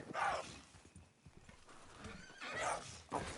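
A horse whinnies loudly twice in a video game, with a shorter neigh at the end, over a low rumble of hoof clops and game ambience.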